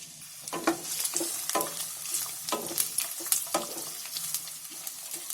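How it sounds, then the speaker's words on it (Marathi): Garlic frying in hot oil in a pan for Schezwan chutney, a steady sizzle broken by repeated scraping stirs of a spoon, close and fairly loud. "लसूण चांगली फ्राय करून घ्यायची"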